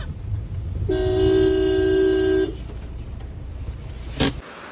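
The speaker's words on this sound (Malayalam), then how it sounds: "നീട്ടി രണ്ട് ഹോൺ അടിയണ്ണ" A single long horn blast from a new car, steady and fairly loud, holds for about a second and a half over low engine rumble, then cuts off.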